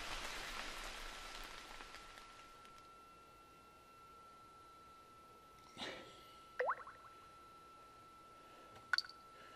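Game rain sound effect from the Tokyo School Life visual novel: a soft, steady hiss of rainfall that fades slightly, broken by a few brief plops and a faint tone, quiet throughout.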